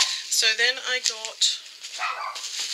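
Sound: dog barking for attention

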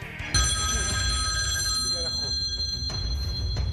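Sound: telephone ringing

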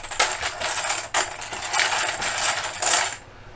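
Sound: counters being mixed up in a container

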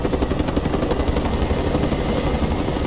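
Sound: enemy helicopter in Mercenaries 2 video game

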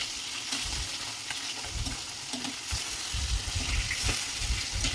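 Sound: rohu fish frying in a pan

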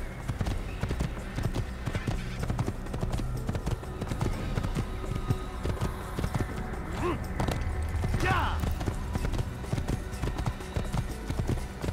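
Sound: horse galloping hooves, from a video game

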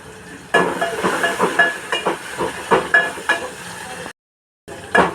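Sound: tomato pieces and asafoetida sizzling in hot oil

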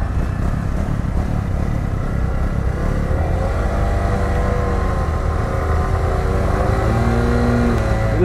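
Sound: vehicle engine revving while burning the clutch

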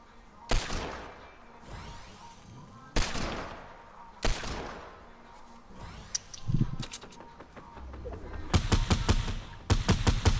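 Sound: sniper gunfire in Fortnite, video game

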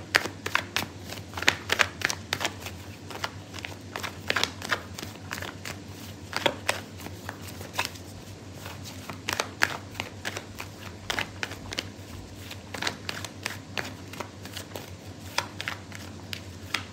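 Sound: shuffling tarot cards

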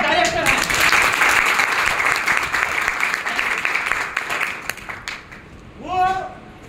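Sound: loud audience applause

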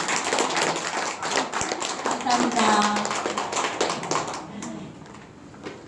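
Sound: clapping for the organisers

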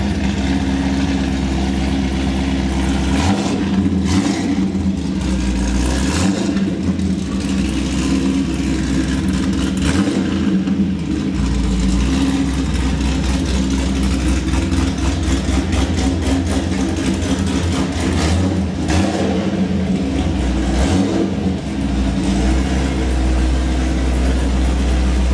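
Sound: 2015 Chevy SS exhaust, engine revving and idling

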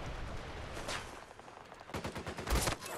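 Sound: shotgun fired in a video game

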